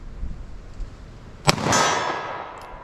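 A single sharp gunshot from a .380 ACP pistol loaded with Remington Golden Saber rounds, fired on a range at a ballistic gel target, cracks loudly and then rolls into a long fading echo.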